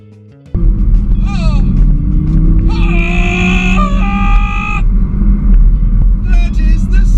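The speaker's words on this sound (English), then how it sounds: "Driving this Audi R8 V10 is a bit of a dream come true." Audi R8 V10 coupe engine roaring loud and close as it accelerates, a rising drone underneath with high whining tones cutting in, voices shouting and talking over it.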